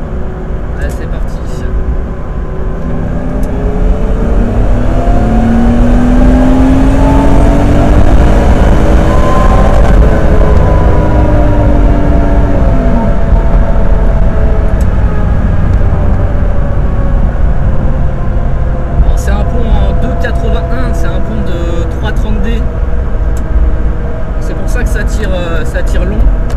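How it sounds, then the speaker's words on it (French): A turbocharged BMW 330ci E46 with an M54B30 engine revs hard in third gear on a closed track, climbing steadily in pitch while accelerating, loud and close, with the roar continuing throughout. "On va faire une petite accel déjà, on va essayer en 3e."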